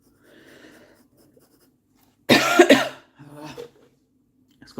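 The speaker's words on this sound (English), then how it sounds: "Keep coughing." One loud, close cough bursts out after a soft, quiet stretch, followed by a weaker rasp of throat clearing.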